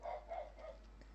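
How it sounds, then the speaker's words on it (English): Dogs barking in the distance behind a quiet indoor setting, a few muffled barks in quick succession and then fading, faint and far off. "Why the dogs always have to bark while I'm working"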